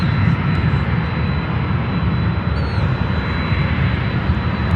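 An airplane landing at Chicago O'Hare airport produces a loud, steady broadband engine roar with a deep rumble, holding constant throughout without any voices.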